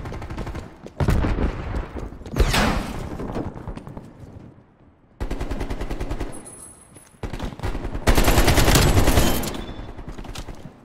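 Automatic rifle fire, a Kalashnikov-style gun, in the Call of Duty: Black Ops Cold War video game: loud, close bursts of rapid shots separated by short pauses and ringing decay, with no talk.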